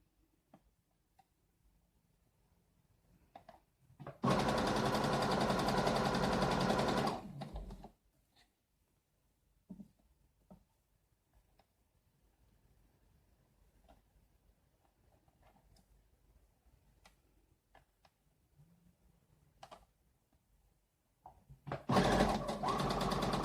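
A serger sewing machine runs in a loud, steady burst of stitching for about three seconds, starts again near the end, and between runs there are soft handling clicks.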